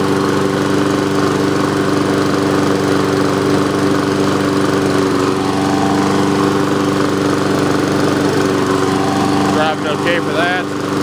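A Honda HRX217 lawn mower engine runs steadily and loudly throughout, a continuous mid-pitched drone with a brief change near the end.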